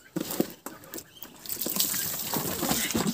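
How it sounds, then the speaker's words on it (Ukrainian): Water spills and splashes from a turned-over poultry drinker in a yard with ducks, soft irregular patters and trickles that grow busier and more continuous partway through, with faint background movement. "Перевертаєш, та вода переливається постійно."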